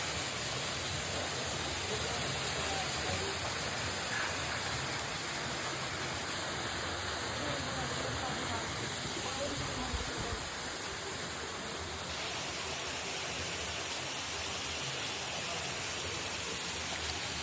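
Waterfall at a rocky site beside a tunnel, roaring as dense, steady broadband rushing water that stays loud and constant throughout with no clear talking over it.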